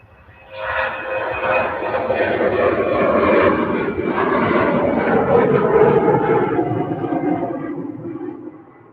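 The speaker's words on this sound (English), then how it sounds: "Austrian in an Embraer E195LR variety." An Austrian Airlines Embraer E195LR jet passes at Manchester Airport, its engine roar rising quickly to a loud, steady rush that slowly fades over several seconds.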